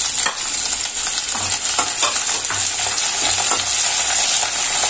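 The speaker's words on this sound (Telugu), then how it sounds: "ఆవాలు, జీలకర్ర, ఎండుమిర్చి, ఎల్లుల్లిపాయ, కరివేపాకు అండి ఫ్రై చేసుకుందాం" Mustard seeds, cumin, dried red chillies, garlic and curry leaves fry in hot oil in a pan for a tempering, giving a steady close sizzle and crackle with small pops and stirring throughout, no talk.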